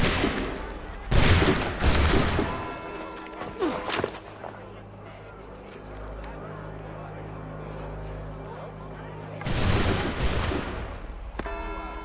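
Loud volley of musket fire from the video game Assassin's Creed 3: a sharp crackling burst near the start, scattered shots, then a sustained droning stretch and a second heavy volley near the end.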